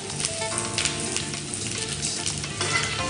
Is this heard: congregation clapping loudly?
no